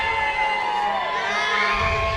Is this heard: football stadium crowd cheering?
yes